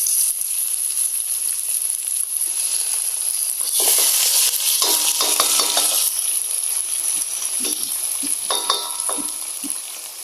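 Boiled mung beans tipped into a pan of sautéing shrimp and aromatics for ginisang munggo, then stirred: steady loud sizzling with scraping and clinking of a utensil against the pan, bursts of stirring in the middle and near the end.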